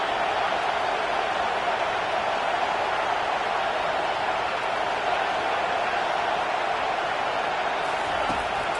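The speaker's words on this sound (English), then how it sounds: "Listen to this crowd just shaking the girders of this place trying to help their defense." Broadcast commentary plays over a football video game as a stadium crowd roars in a continuous, loud, hissing wash of noise that stays level throughout.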